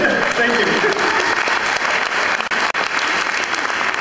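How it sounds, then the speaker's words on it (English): An audience at a scientific Q&A session claps in sustained, dense applause for several seconds, with a few voices mixed in. "We give a round of applause."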